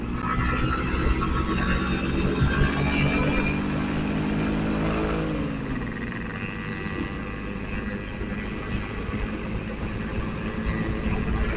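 A car passes on a mountain road, its engine rising and then fading over several seconds, heard from a motorcycle, with steady engine and wind noise underneath.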